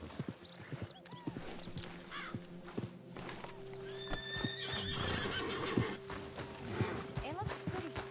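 A horse in the video game Red Dead Redemption 2 clip-clops with steady, close hoofbeats and gives a drawn-out whinny partway through. Someone speaks calmly over the animal.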